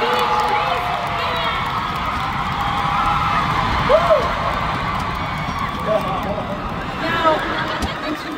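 At a K-pop fan concert in Manila, a large crowd cheers and screams continuously, with high whoops cutting through the roar at a distance.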